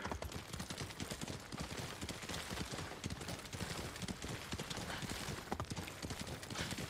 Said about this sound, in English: Can we go across the water on the horse?